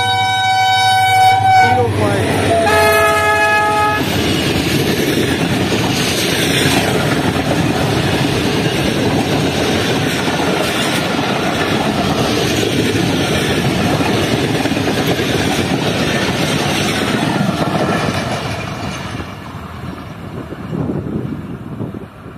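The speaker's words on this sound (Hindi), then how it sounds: "बहुत बेहतरीन स्पीड में गई 36 down sir Syed express run Pathani railway station से" The 36 Down Sir Syed Express, led by an HGMU30 locomotive, sounds its horn and then roars past a desert railway station in Sindh at high speed, a loud, sustained rumble of wheels and cars that fades at the end.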